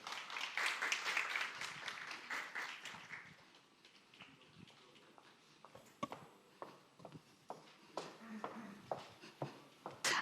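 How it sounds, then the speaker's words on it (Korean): Audience applause welcoming a speaker at a 2025 Ulsan small-business AI conference: a burst of clapping from the crowd for about three seconds, then fading into scattered, sparse claps and footsteps-like taps in a quiet hall. "큰 박수로 맞이해 주시기 바랍니다"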